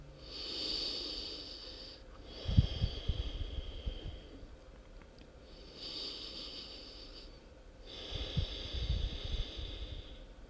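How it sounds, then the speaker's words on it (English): Slow, deep breaths during a hip-focused yoga stretch, with soft airy inhales and exhales alternating in long cycles and a few faint rustles, quiet and close. "let's stay for 3 full body breaths"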